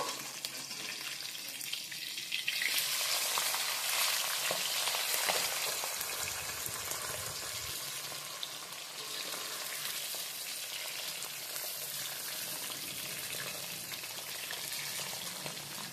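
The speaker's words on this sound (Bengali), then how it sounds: "মাছের মাথাটার অপর দিকটা আমি ভেজে নেব" Fish heads fry in hot oil for a moong dal dish, giving a loud, continuous crackling sizzle that holds steady throughout, with a brief louder flare near the start and no talking.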